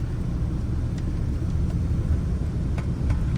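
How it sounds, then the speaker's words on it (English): Drivetrain shake from a worn steady bearing in a manual-swapped 2011 Ford Crown Victoria, a continuous low rumble under road noise with faint periodic knocks, heard from inside the car. "You hear that, feel that drive shaft shake"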